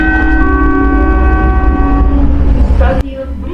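Steady rumble of a Jabodebek light rail train in motion with a sustained horn tone, then a sharp clack and quieter rolling noise continuing to the end.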